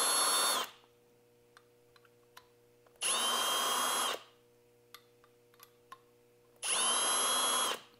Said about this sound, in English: So I'll usually do it until I don't feel any resistance on the cutter anymore.